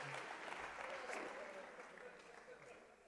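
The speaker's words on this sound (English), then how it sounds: "Somebody just clap your hands to the Lord so I can just move." A church congregation clapping their hands during a sermon, a sustained crowd applause that gradually fades, with a voice speaking briefly over it.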